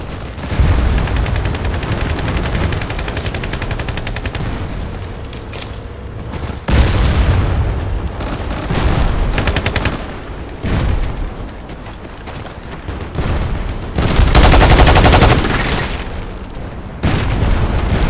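M240B machine gun in Battlefield Play4Free firing loud sustained bursts of rapid shots, broken by short pauses and heavy booming blasts, battle noise filling the whole stretch.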